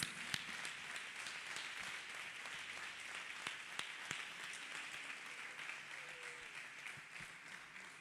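A church congregation clapping hands together after a healing testimony, a dense, continuous patter of many hands heard from a distance, steady throughout with no talk over it.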